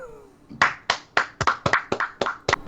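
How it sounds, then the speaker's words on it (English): A few people clap together in an uneven burst of about a dozen sharp, close claps, with no one speaking. "This is when we start clapping. Everybody clap a lot."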